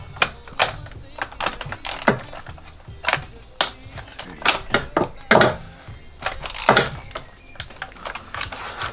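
A ratchet working on the four 10mm bolts holding the fuel rail on a BMW E46 engine: quick irregular bursts of clicking, close and fairly loud, with short pauses between runs and no talking.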